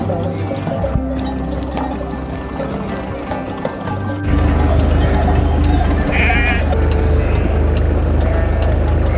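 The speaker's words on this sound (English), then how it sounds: "So far we've had a cow with loads of sheep." A large flock of sheep bleats repeatedly on a mountain road in the Pyrenees, the calls overlapping and fairly close, with a vehicle engine droning low underneath and growing louder partway through.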